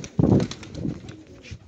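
Pigeons cooing close by in short, soft throaty bursts, a louder coo at the start and quieter ones following, with faint background noise.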